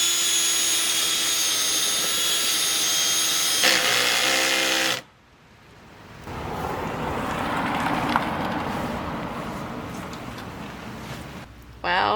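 A power drill runs loud and steady inside a van being built out, cutting off abruptly midway, then a rougher, grinding drilling sound follows for several seconds before stopping near the end.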